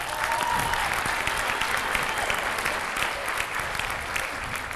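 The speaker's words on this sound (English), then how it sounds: "Give them another round of applause." Sustained applause fills a high school track and field awards assembly honoring a state championship team, a dense, steady wash of many hands clapping at even loudness throughout.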